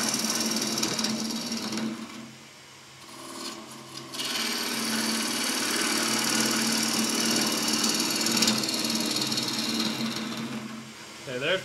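A woodturning gouge cutting a wooden bowl spinning on a lathe gives a continuous close rasping hiss with a steady motor hum, easing briefly before resuming, with a short spoken remark near the end.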